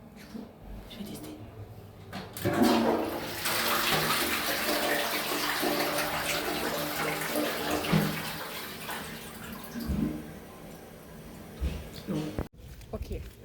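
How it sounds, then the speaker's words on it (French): A toilet flushing in a home bathroom, a loud rushing of water that swells after a couple of seconds, holds for several seconds and then tapers off into gurgles, with people talking over it. "si je chasse, genre la chasse d'eau, il y a un bruit de Formule 1"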